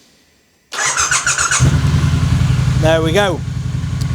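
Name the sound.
Triumph Bonneville T120 motorcycle engine starting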